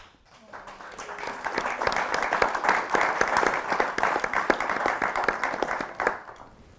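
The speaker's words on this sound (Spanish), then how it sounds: "Con aplausos y todo" An audience at a retreat talk breaks into sustained applause, many hands clapping densely for several seconds before it tapers off, with a voice faintly underneath.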